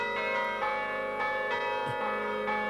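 Carillon bells ring out in a sustained, layered peal, many tones overlapping and struck repeatedly with no talking over them.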